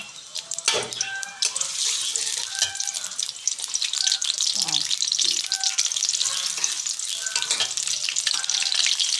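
Onions frying in hot oil in a home kitchen before lotus taro stems are cooked, giving a steady bright sizzle with scattered clinks of a spatula or utensil throughout, no talking.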